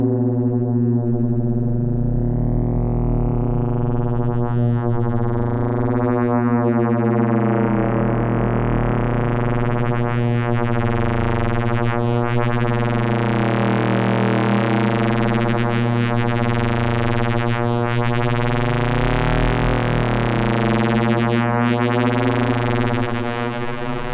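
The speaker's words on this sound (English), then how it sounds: "send the frequency shifted version through a panner and use something like a smooth random voltage to spread the created textures around the stereo field" A Doepfer A126-2 frequency shifter in a modular synth patch spreads harmonic drone textures across the stereo field, a steady, loud layered tone with slowly sliding partials and a rising upper edge that continues without pause.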